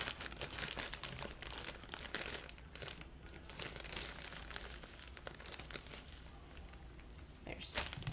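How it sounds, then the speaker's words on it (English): Brown sugar is pressed into a spoon against the side of its bag, making dense crinkly rustling and crunchy packing sounds close by, with soft plastic crackles and a voice talking over it. "just on the side of the bag, just kind of pack it in there so it's nice and tight"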